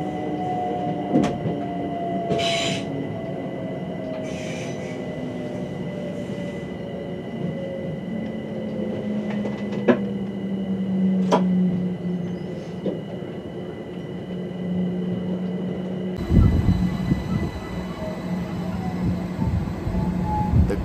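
A Class 710 electric train on the Gospel Oak to Barking line, heard from the cab as a steady rumble with a slowly falling motor whine, sharp clicks and clunks over the track, and a louder rush near the end.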